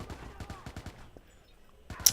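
Rapid rifle fire in Watch Dogs, a quick run of close, punchy shots in tight succession, then a short pause and a final sharp burst, with speech partly over it.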